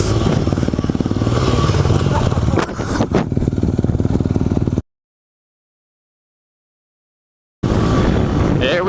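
A dirt bike engine revs hard while riding through woods, a loud, close, rasping drone with rising throttle bursts, then cutting to silence for a few seconds before roaring back.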